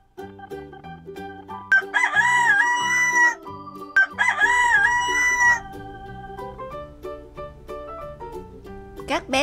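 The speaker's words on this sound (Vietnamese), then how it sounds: "Con gà trống. Con gà trống." A rooster crowing sounds twice over a cheerful children's song, each long, wavering cock-a-doodle-doo call rising above the music, loud and clear.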